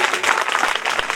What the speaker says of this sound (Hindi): एक बार जोरदार तालियां बजाएं इनके लिए